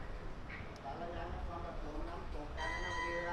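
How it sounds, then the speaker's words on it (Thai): A bright, ringing bell signalling an approaching train sounds repeatedly with sustained tones amid steady background noise at a Thai railway station, someone talking over it. "ตอนนี้นี่ก็เสียงระฆังแล้วนะครับ รถไฟกำลังจะมาแล้วนะครับ"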